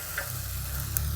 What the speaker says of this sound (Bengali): এগুলো সব আমি মশলাটা ভালো করে কষিয়ে নেব